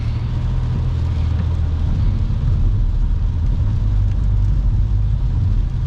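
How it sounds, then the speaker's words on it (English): Tyres throwing up water spray on a rain-soaked North American interstate, a loud continuous rushing roar mixed with low engine and road rumble from nearby traffic, steady for the whole stretch with no talking. "Hear all that water kicking up?"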